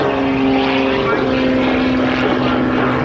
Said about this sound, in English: that make the extra 300S a world-class aerobatic aircraft